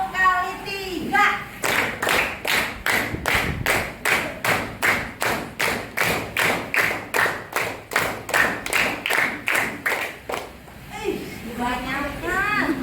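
A group claps hands together in a steady rhythm, about twenty loud, evenly spaced claps in sets, with voices talking just before and after.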